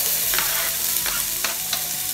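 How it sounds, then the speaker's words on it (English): Onions fry loudly in a pan in a steady dense sizzle, with a few brief rushes of stronger hissing as they are moved around. "I'm gonna fry up the onions until they get a nice golden grill"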